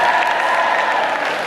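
A convention crowd at a cosplay contest claps and cheers in a dense, steady wash of applause that fills the whole moment.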